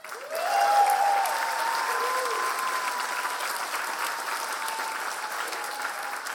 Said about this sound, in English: we are applauding this remarkable and talented achievement